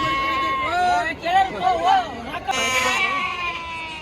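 Sheep and lambs bleat repeatedly at a busy sheep market, quavering calls rising and falling close by over a murmur of crowd chatter and voices.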